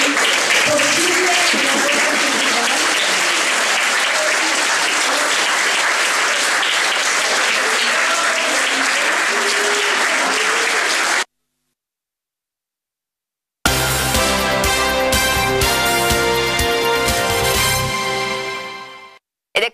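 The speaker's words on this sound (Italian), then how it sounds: "Un grande applauso a chi ha reso oggi possibile." Sustained audience applause rolls on loudly for about eleven seconds, followed after a pause by music.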